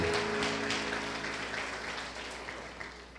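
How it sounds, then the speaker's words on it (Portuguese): A church congregation applauds together, a dense wash of clapping that starts full and slowly fades over a few seconds, with no voices on top. "Dê uma salva de palmas para Jesus."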